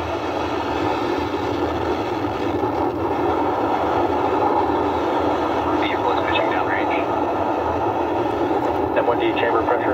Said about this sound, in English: Engines full power. And lift off of Viasat 3. Go Viasat, go Falcon Heavy